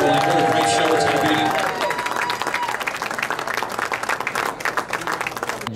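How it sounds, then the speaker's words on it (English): Sustained audience applause at a PBA Tournament of Champions bowling event, dense clapping that rises loud at first then thins into scattered claps with crowd murmur and talk underneath. "Give them one more round of applause, absolutely."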